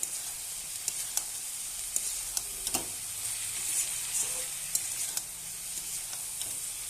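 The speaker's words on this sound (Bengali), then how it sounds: "নেড়ে দেবো।" Pumpkin and bori fry in a pan with a soft, steady sizzle, punctuated by irregular spatula scrapes and taps as they are stirred, fairly quiet and close, without speech.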